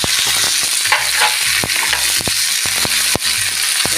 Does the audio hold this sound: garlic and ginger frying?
yes